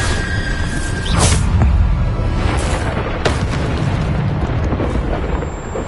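Bombarda explosion spell cast in the Hogwarts Legacy video game, a loud booming blast with rumbling low end and a sharp burst near the one-second mark, followed by further thumps and crackling debris.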